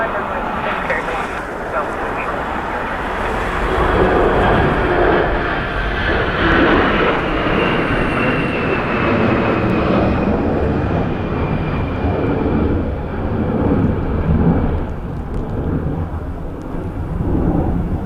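Fixed-wing airliner landing on runway 16 at Dublin Airport in gusty crosswind, a loud sustained jet roar with a faint whining tone across the whole stretch, mixed with wind buffeting on the microphone.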